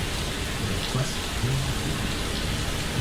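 Steady rain in the video game Fallout London, a dense, constant hiss filling the scene with a faint low rumble beneath and no other clear sounds.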